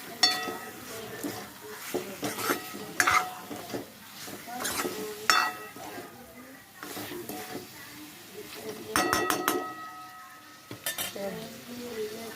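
Marinated prawns being stirred into masala in a pan for a Malvani-style kolambi rassa curry, with repeated scraping and clinks of a utensil against the pan and a soft sizzle underneath.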